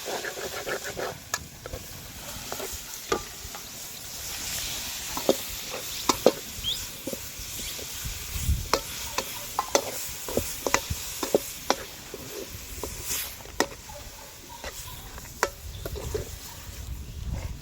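Beef frying in oil in a pan while being stirred, with scraping and clattering spatula hits against a steady low sizzle, close and continuous with no talk.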